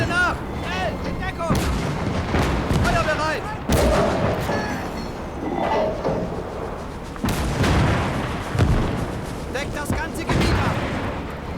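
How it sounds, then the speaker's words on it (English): Gunfire and artillery in the WWII strategy game Gates of Hell, repeated heavy booms and sharp shots hitting every second or two at close range, with a voice talking over the battle. "Some big shooting there."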